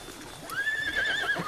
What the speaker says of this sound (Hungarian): Szerintem ezeket a lovakat viszik a rodeóra 2 hét múlva.